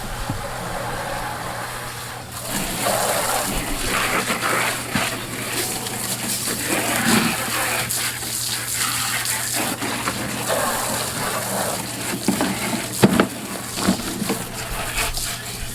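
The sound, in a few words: water spraying to wet down a cooler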